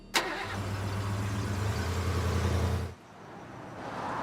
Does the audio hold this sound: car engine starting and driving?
yes